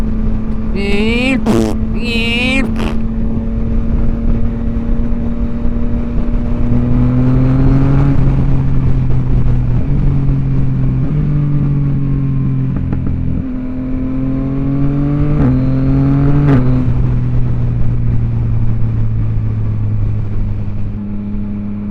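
A 2023 Yamaha XSR900 motorcycle engine drones and climbs steadily, with quick pitch drops at each quick-shifter shift and sharp pops from the aftermarket exhaust, loud and up close.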